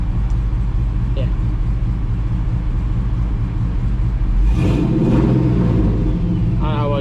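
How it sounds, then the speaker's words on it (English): A Chevrolet Nova's engine idles with a steady low rumble, close by, and a small exhaust leak adds faint ticking. Voices speak over it toward the end. "There is a small exhaust leak, which is mildly annoying, but it's fine for now."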